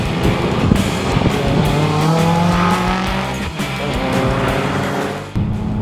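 A 2018 Audi RS3 driven hard on a racetrack, its engine loud and close, with rising and falling revs, gear changes and brief tyre squeal.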